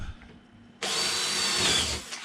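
A power drill boring pilot holes for screws into a wooden back plate for a bonsai backdrop, starting abruptly with a loud, close, steady high whine that runs for over a second.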